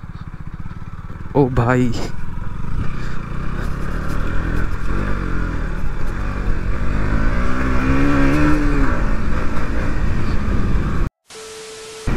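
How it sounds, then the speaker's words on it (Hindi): A KTM Duke 200 motorcycle rides through a water crossing near a dam, its engine droning loud and steady with splashing wash, while a voice calls out briefly near the start. "तो यहाँ पे थोड़ी सी मतलब वाटर क्रॉसिंग है तो पानी में डालते हैं बाइक को।"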